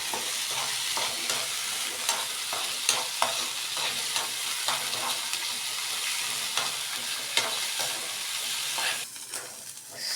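Sliced onions with ginger garlic paste sizzle in a hot pan, with a steady frying hiss broken by regular scraping clicks of a spoon stirring, close and alone without voices, easing off near the end.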